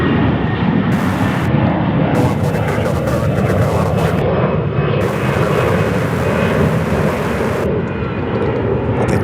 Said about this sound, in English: Next up, an A321 out of Dallas, Fort Worth. American Airlines Flight 356, a 7-year-old aircraft.